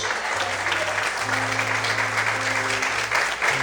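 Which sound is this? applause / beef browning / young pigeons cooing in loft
applause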